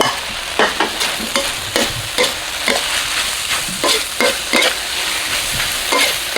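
Pork belly and holy basil stir-fried in a hot wok for a Thai dish with long beans, giving a steady loud sizzle broken by regular scraping spatula strokes, with no talk.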